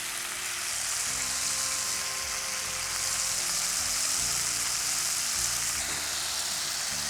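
Spices for rasam tempering in hot oil give a steady, close, loud sizzle and crackle that continues without a break. No voices are heard.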